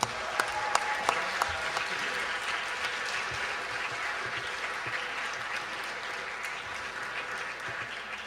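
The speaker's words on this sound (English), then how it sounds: "Let's give them another round of applause." A crowd gives performers a sustained round of applause at a Chinese New Year kickoff celebration, steady dense clapping throughout with a few sharper individual claps standing out near the start.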